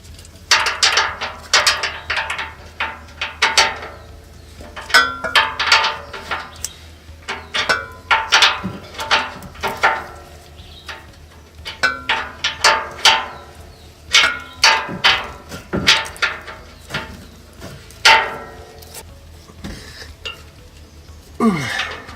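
A ratchet wrench tightens the Panhard bar bolts under a 1999 Toyota Prado, giving off repeated bursts of quick clicking with short pauses between strokes and no talk.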